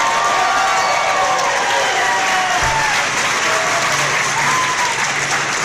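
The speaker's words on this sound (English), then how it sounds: "Loud round of applause so our listeners can hear you." A loud, sustained round of applause from a political debate audience, dense clapping that continues without a break.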